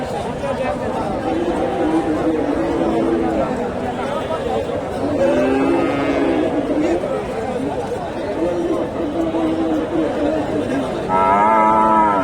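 A Friesian bull at the Dhap cattle market in Bogura, Bangladesh, lows in a few drawn-out moos amid loud crowd chatter and livestock noise, with another moo rising near the end.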